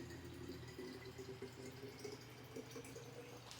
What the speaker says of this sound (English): fill my jug up, not to the top